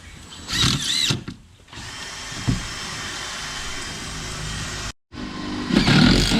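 A power drill whirs in several bursts drilling holes during hurricane preparation, revving up and down close by, with short pauses between runs.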